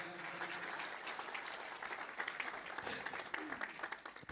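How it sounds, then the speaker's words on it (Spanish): A church congregation applauds to welcome newcomers. The clapping is moderate and builds into scattered louder claps toward the end, with faint voices underneath. "Le damos la bienvenida, le damos un aplauso y le decimos bienvenidos a Iglesia en tu Ciudad."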